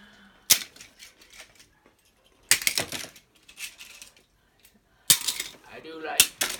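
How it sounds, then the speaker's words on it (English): Pokémon trading cards tossed around by hand at night, landing in three sharp clattering bursts of slaps and flicks spaced a couple of seconds apart, with quiet gaps between them and a faint voice at the end. "this is what I do at night, throw the cards around"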